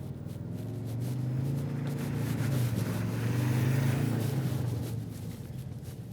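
2021 Ford Bronco Sport four-wheel drive driving off-road in sand mode, a steady low engine drone with a gradual swell and fade, heard from inside over wind and road rumble.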